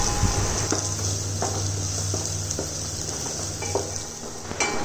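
Spices sizzle in hot oil in a pan, a steady hiss broken by a few scraping stirs and light clinks.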